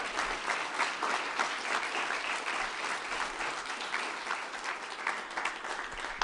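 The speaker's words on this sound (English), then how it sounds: "Let's give Mike McGrath a big round of applause." An audience at a concert-touring safety and security training session applauds steadily for about six seconds, a dense, even wash of many hands clapping with no talk over it.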